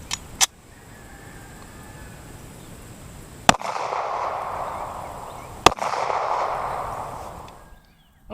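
Two loud close 9mm handgun shots firing 135 grain jacketed hollow points into a one-inch slab of polyurea, preceded by a sharp click, each blast followed by a few seconds of ringing, echoing decay outdoors.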